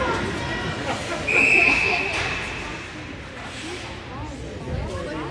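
A referee's whistle at a hockey game cuts through crowd noise and commentary in one sharp, steady blast of about half a second, with the rink's ambient babble continuing under it.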